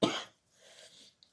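A single loud, harsh cough bursts out at the start, followed by quieter breathy throat noise and a faint click near the end, close to the microphone with no talking.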